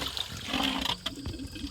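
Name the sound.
water draining out of a pool chlorinator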